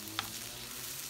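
Half a large onion with half a large green pepper and half a large red pepper sautéing in a pan for meatloaf, a steady soft sizzle with one brief sharp tick near the start, no talking.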